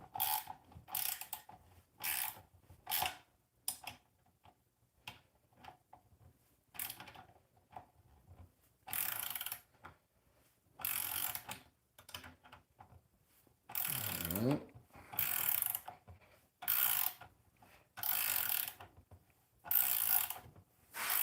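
A ratchet set clicks as it turns bolts on a car's continental kit. The quiet, close-by ratcheting comes in short rhythmic bursts separated by pauses, with a few louder rasping passes.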